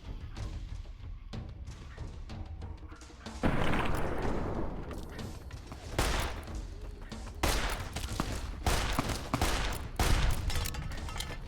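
Gunfire in Fallout: New Vegas as a stranger opens up, dense overlapping shots and bursts that swell into a loud, sustained barrage with heavy thuds, no talking.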